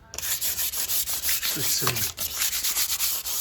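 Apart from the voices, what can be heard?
light hand sanding of painted composite door with 300-grade paper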